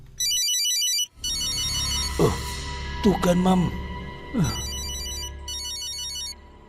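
A mobile phone ringtone plays loudly in repeating electronic bursts at the start and again at the end, with people talking over the middle stretch in Indonesian.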